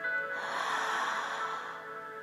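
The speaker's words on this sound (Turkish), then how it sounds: "Derin bir nefes alın." During a guided breathing meditation, a deep breath is drawn in through the nose, a close, steady airy inhale lasting about two seconds, heard alone.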